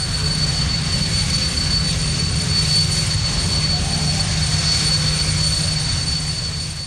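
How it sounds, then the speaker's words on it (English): An old jet engine used as a strip dryer on a former runway at the Santa Pod drag strip in 1977 gives a loud, steady roaring whine that holds unbroken throughout. "they did have a strip dryer, an old jet engine that works like a hairdryer on the old runway"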